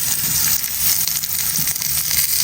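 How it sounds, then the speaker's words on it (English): Steady, dense sizzling of steak searing in a hot cast iron pan, a continuous crackling hiss with no talking. "Can you see all that sizzle going on right there?"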